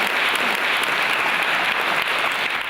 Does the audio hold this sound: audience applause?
yes